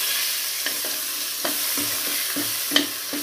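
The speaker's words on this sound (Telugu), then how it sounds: "ఆ వేడికి మనకి ఇంకొంచెం ఈ పోపు అంతా కూడా కలిసి బాగా మిక్స్ అవుతుంది" A spoon stirs ivy gourd chutney into a hot pan of fried tempering, giving repeated scraping strokes over a constant soft sizzle, close up with no talking.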